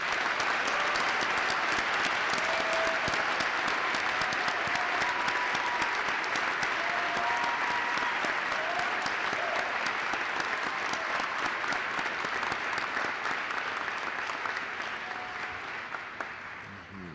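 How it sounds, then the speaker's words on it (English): Sustained, dense applause from a large audience honoring PhD graduates at a winter graduate commencement ceremony, loud and even for a long stretch before gradually tapering off at the end, with faint voices mixed in. "Please give all our PhD graduates a round of applause."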